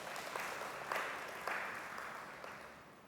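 Steady applause from a church congregation at a missions conference, a dense wash of clapping that holds at an even level and slowly fades, heard somewhat distant.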